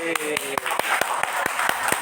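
Audience clapping hands in an office motivational session, several sharp claps in an irregular rhythm over about two seconds, with a faint murmur of voices underneath.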